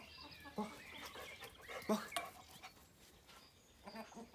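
Soft clucks from a rooster come in a few short bursts, faint and nearby, amid quiet background noise.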